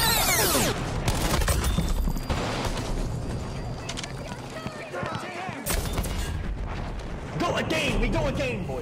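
Heavy explosions from a JB-2 ordnance strike in Battlefield 5 boom and rumble in several bursts with scattered gunfire, and voices call out over the blasts.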